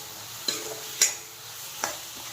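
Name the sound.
tomatoes frying in oil with whole cumin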